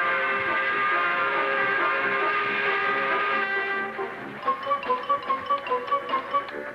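A long, loud train whistle blares for several seconds, then gives way to rhythmic chugging of a moving train, close and steady.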